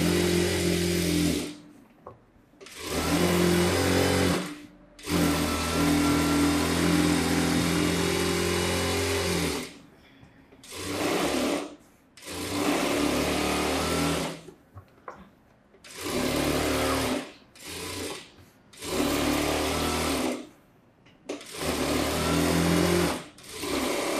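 A sewing machine stitches a collar-neck, front-open princess blouse in close, loud bursts of steady whirring, separated by short pauses, with no talking.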